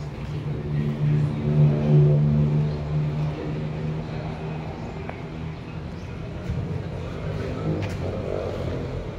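A vehicle engine idles steadily at an emission testing center, with a low constant hum and slight swells in volume. Faint background noises and occasional distant voices are heard throughout.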